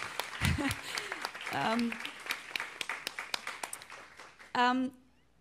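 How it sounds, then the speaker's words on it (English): Scattered clapping from a small group, brief and uneven, with voices talking before and after it. "So Martina and Shay, please stand up for a second and take a round of applause."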